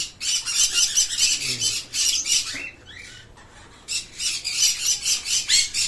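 A dense chorus of many birds squawking and chattering nearby, continuous and rhythmic, with a brief lull midway.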